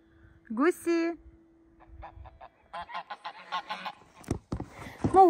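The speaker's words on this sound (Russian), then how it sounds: "Гуси." Several loud goose honks up close, alternating with quieter stretches and scattered honks and clucks.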